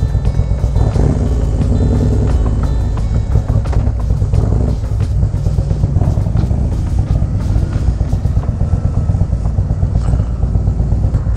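A Harley CVO Road Glide with an S&S 128 big-bore kit runs loud and close, its deep, lumpy V-twin exhaust rumbling continuously with rapid pulsing throughout, no talking.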